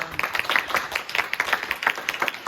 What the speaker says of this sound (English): let's give a big applause for everyone who worked very hard for this lesson